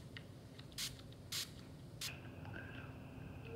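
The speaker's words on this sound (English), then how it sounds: "I'm gonna be using this setting spray" Three short, bright sprays of makeup setting spray hiss in quick bursts from a nearby pump bottle, with a soft rustle in between and no talking.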